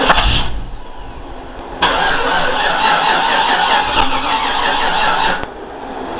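Starter on a 1991 Grand Wagoneer with a freshly installed engine cranks sluggishly for a couple of seconds, then the engine catches and runs at a rough, steady idle, close by.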